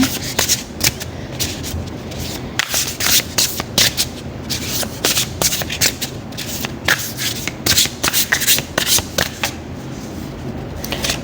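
Tarot cards are shuffled close by in continuous rustling, slapping bursts with an uneven rhythm, with no speech.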